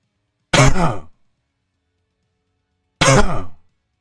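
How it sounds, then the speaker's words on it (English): A person with arms crossed over the chest coughs twice, each a short harsh throaty burst about half a second long, close and loud, separated by two seconds of silence. "you want to deeply breathe in and cough."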